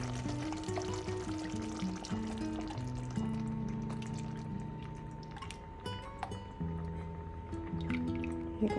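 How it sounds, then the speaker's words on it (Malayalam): Thick coconut milk poured into a simmering fish curry, making soft liquid pouring and dripping sounds at moderate distance with faint tonal background sounds. "നമുക്കിതിലോട്ട് തേങ്ങാപ്പാൽ ഒഴിക്കാം"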